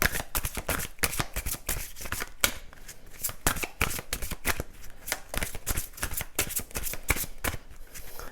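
Oracle cards are riffled and shuffled by hand in a quick, continuous flutter of crisp paper snaps, close and steady throughout, with no voice.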